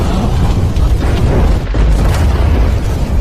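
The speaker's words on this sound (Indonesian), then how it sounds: "Terjadi ledakan dari dalam sekte boneka Yin." Explosion sound effect from an animated fantasy story: a loud, sustained booming roar with heavy low rumble that barely dips before continuing.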